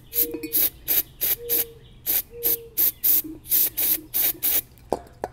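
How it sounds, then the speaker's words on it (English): Carburetor cleaner sprayed in a dozen or so short, sharp hissing bursts onto the needle valve of a Coleman Powermate 5kW generator carburetor with a Subaru/Robin engine, close and loud, with brief pauses between bursts. "I'm going to get some cleaner on the needle valve"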